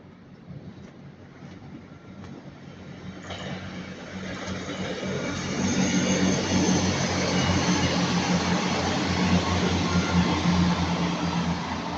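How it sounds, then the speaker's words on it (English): An East Midlands Railway class 158 diesel train passing through Ardwick, a rumbling engine drone growing from distant to loud and steady as it goes by. "now passing by the East Midland train class 158 going from Liverpool Line Street to Norwich."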